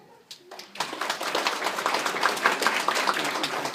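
Comedy-show audience breaking into scattered then sustained clapping and applause, building from a few hands to a fuller crowd, moderately loud in a room.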